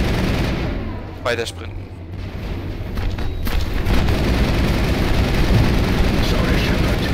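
Gunfire in the Mass Effect video game, dense loud shots and booming blasts in a continuous barrage with a brief sharp whoosh early on, while a voice speaks German over the combat.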